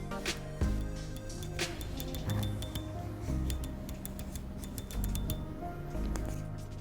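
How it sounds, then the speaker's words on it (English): Samsung Galaxy Watch 3 held close to a mic: small crisp button clicks, then the rotating bezel's fine ratcheting ticks, all over a steady low background hum. "So here's the click, and here's the bezel."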